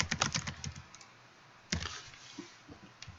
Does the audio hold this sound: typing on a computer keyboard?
yes